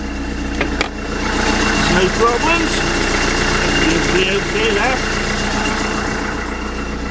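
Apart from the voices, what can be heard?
narrowboat engine idling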